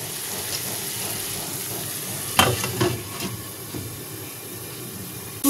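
Masala spices sauté in a little oil for chital fish curry. A steady sizzle runs throughout, and a few sharp scraping stirs and clinks come midway, with no talking.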